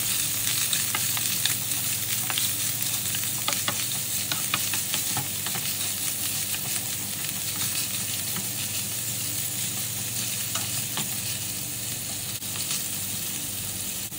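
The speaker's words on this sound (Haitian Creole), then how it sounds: "N'a prend hot dog là, n'a frit bien frit." Hot dog pieces being fried in hot oil in a pot, a dense, loud, unbroken sizzle and crackle with occasional stirring scrapes, close up and without talk.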